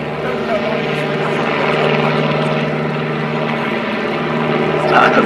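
Steady droning engine and propeller of a Pitts aerobatic biplane during a torque roll at an evening airshow, heard loud and close from the cockpit, with a voice talking over it.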